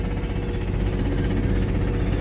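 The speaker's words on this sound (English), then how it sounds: "The engine, she is a knockin'." Low, steady engine drone from a Toyota MR2 widebody replica cruising at about 2,000 RPM with a knocking engine, a loud continuous rumble heard from inside the car with no talking.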